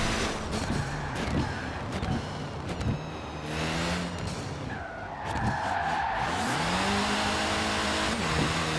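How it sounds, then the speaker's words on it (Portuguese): A tuned Honda Civic Si with a turbo rally engine in Forza Horizon 4, its engine roaring loudly and continuously with rising and falling revs, tire skids and squeals running through the steady drone. "Esse motor turbo rally é incrível, galera."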